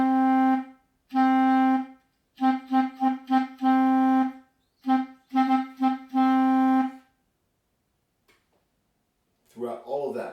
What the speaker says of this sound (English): So stop staccato sounds like this.